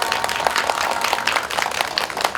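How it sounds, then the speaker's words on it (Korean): A crowd applauds at an outdoor candlelight protest rally, a dense, steady wash of many hands clapping from some distance, with no voices over it. "아버님께 박수 한번 다시 한번 주셨으면 좋겠습니다"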